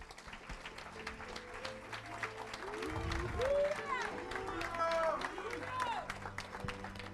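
A church congregation applauds and cheers in praise of God, the clapping and crowd noise rising in the middle and carrying on steadily under a preacher's voice and some music.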